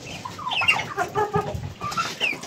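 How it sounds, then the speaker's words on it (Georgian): A flock of chickens clucks in the morning as they are called out of their coop, a steady run of close, overlapping clucks and calls with no talking. "ქათმები არიან"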